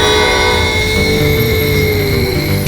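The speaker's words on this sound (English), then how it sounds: "There is no way I am going to jump onto that train." A train speeding down the tracks, a loud, close, steady roar of wheels and rumble with a sustained horn-like tone running throughout and no talking.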